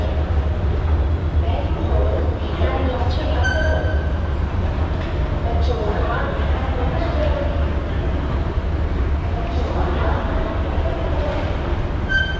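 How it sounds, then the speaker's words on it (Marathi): Inside the underground Swargate metro station in Pune, a loud continuous rumble of a train runs throughout, with faint squeals and people talking underneath. "तर अतिशय सुविधा असलेलं हे स्वारगेटचं मेट्रो स्टेशन आहे"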